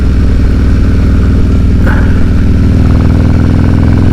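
A Harley-Davidson Road Glide motorcycle fitted with Progressive suspension rumbles loud and close as it rides over a rough, bumpy road, its steady low engine drone mixed with clattering jolts from the uneven surface.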